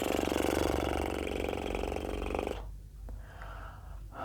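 Puffing breaths imitate a steam train during a facial yoga exercise meant to relax the face muscles. They come as fast, rhythmic, breathy chuffs, loud and close for a few seconds, then fade to quieter breathing.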